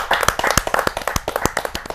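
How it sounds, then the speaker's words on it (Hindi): Audience at a Hindi kavi sammelan poetry gathering claps to welcome a poet, a dense burst of many hands with sharp, rapid claps close by, steady across the whole stretch with no voices. "जोरदार ताली के साथ हम उनका स्वागत करते हैं"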